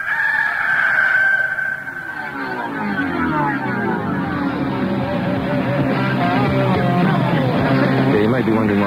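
A rooster crows at the start of a song recording, one drawn-out cock-a-doodle-doo, clear and forward, before the music comes in beneath it.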